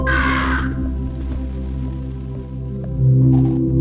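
Crow people caw in the video game Monument Valley, a harsh burst near the start followed by a steady layered game soundscape with softer calls, all close and fairly loud.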